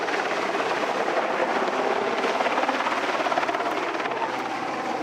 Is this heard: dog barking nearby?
no